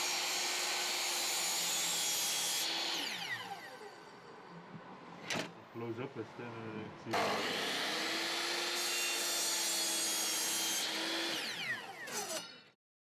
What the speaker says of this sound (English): We cut the skirting boards in mitre in order to ensure a good connection in the corners.